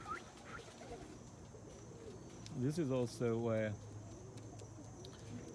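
Young homing pigeons coo in a loft, giving a few low, throaty rolling calls close by, with someone talking over them.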